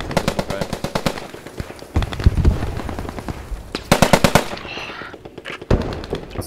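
Bursts of automatic gunfire rattle out from a building in the WWII shooter Post Scriptum, loud and close, in several rapid volleys separated by short pauses, with brief voices between them.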